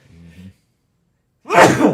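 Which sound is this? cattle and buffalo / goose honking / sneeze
sneeze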